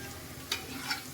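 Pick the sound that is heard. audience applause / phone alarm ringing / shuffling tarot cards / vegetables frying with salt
vegetables frying with salt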